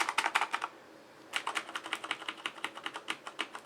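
Typing on a Corsair K70 Rapidfire mechanical keyboard: quick bursts of crisp, clicky keystrokes at close range, a short run, a brief pause, then a longer steady flurry of taps.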